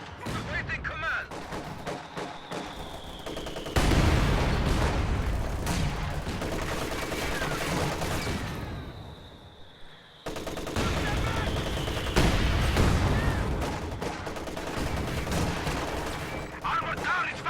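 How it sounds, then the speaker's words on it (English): Heavy mortar barrage in a competitive video game match pounds ambient buildings, with dense continuous gunfire and rumbling explosions filling the whole stretch, loud and close with a brief dip before resuming. "those heavy mortars are just destroying everything as far as ambient buildings"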